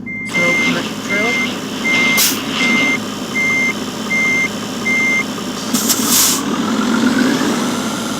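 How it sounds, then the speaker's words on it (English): A truck in Euro Truck Simulator 2 reverses to couple a trailer, its evenly spaced reversing beeps repeating over a steady idling engine, with a couple of short hissy bursts. "So, connect the trailer."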